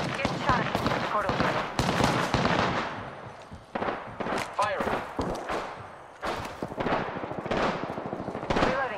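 Rapid automatic gunfire in the Apex Legends video game, close and loud bursts of shots with brief gaps between volleys, mixed with impact and game effects throughout.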